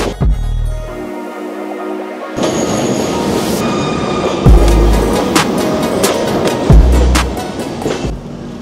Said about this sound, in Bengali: তবে পুরো জঙ্গলের মধ্যে দিয়ে যাচ্ছে ট্রেনটা।